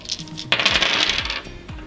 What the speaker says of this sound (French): qui lance ses dés, qui en a beaucoup plus